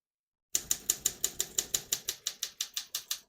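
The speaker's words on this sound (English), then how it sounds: "As you can see, all the keys type nice and none of them skip or stick." Typing on a 1953 Olympia SM3 portable typewriter makes a brisk, even run of about fourteen sharp key strikes, close and clear against silence.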